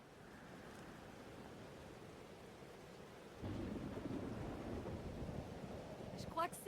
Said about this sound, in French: La météo est pire que dans mon souvenir. La tempête m'a suivi.